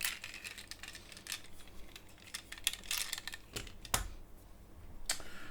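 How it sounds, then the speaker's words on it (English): Plastic strapping being pulled and snipped off GI Joe toy vehicle packaging, a series of sharp close clicks and crinkly snaps at an irregular rhythm, with no talking. "Plastic strapping."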